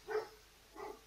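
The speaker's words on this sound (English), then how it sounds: "Sorry if you can hear my dog barking in the background." A dog barks twice in the background of a kitchen where a Pressure King Pro 5-litre pressure cooker is being unboxed, two short, fairly faint yaps about half a second apart.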